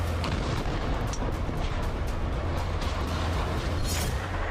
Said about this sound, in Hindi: हर तरफ धमाकों की आवाज है